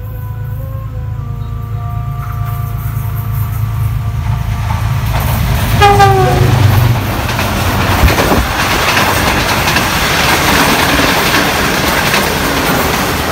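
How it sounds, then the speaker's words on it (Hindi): The Green Line Express pulls into a small-town station in Gujranwala behind a GEU-20 diesel locomotive, sounding a long multi-tone horn up close as the engine rumble builds, then wheels and wagons clatter loudly past. "इस्लामाबाद एक्सप्रेस के गुजरने के तकरीबन 40 मिनट बाद 6 डाउन ग्रीन लाइन एक्सप्रेस भी आ गई।"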